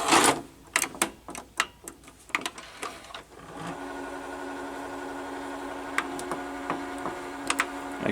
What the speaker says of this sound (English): The tape is like turning pretty fast, it seems.